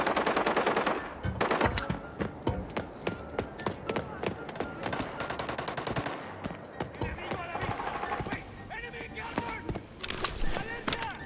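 Bursts of RPK machine gun fire in a mobile battle-royale video game, rapid rattling volleys repeating in quick succession, fairly close and loud, with a player talking over them.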